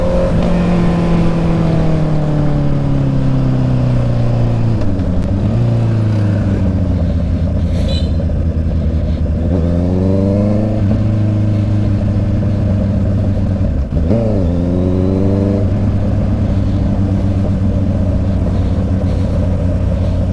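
A Honda CB650 motorcycle engine idles loud and close, with deep harmonic drones that sweep up in pitch with several sharp throttle blips on a road near Paraty beach.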